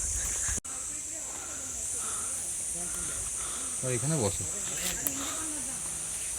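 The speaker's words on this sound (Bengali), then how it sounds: "শুধু চারদিকে ঝিঝি পোকার ডাক" Insects, likely crickets, keep up a steady high-pitched drone in dense jungle at Baratang in the Andaman Islands, continuous in the background while a person speaks briefly over it.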